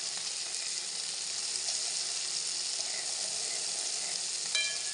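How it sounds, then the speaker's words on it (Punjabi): Tomatoes frying in oil for a homemade matar aloo dish, a steady close sizzle hissing continuously throughout with a faint clink near the end. "ਟਮਾਟਰ ਵੀ ਆਪਣੇ ਚੰਗੀ ਤਰ੍ਹਾਂ ਫਰਾਈ ਹੋ ਗਏ"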